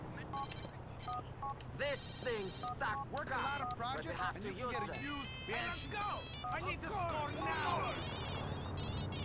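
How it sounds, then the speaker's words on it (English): Electronic ringtone beeps and warbling tones from a phone in GTA IV play over each other, bright and busy, with a low hum underneath. "You can customize the ringtone."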